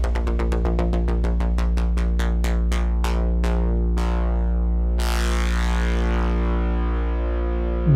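A loud, distorted synth bass with a random LFO drones while a wobbling pulse slows from rapid flutter to wide throbs, then a bright noisy sweep bursts in, from a remix.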